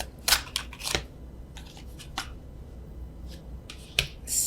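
Tarot cards shuffled overhand, a series of short crisp slaps and riffling flicks at irregular intervals, close and fairly quiet, with no talk.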